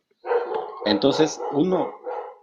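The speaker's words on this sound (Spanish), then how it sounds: "perdón por el ruido del perrito" Small dog barking indoors: a burst of sharp yips and barks close by, mixed with a person talking over it.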